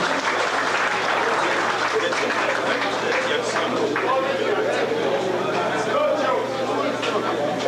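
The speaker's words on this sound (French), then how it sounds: "Applaudissons ensemble." A large crowd applauds continuously, a dense, steady roar of clapping with scattered voices mixed in.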